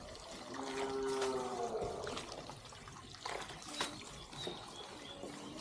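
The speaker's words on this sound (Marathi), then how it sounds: "हे जाळीचे टोपले आहेत. म्हणजे काय नाही, यातलं पाणी निघून जातं एक्स्ट्रा असलेलं, आणि चारा आपला धुतला जातो." Water trickles and drains through a mesh basket as horse fodder is washed, a steady wet splashing with dribbling runoff at close range.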